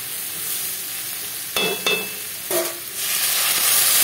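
Banana flower and fried shrimp being stir-fried in a pan: a soft background sizzle broken by a few spatula scrapes and stirring clatters, fairly quiet and close.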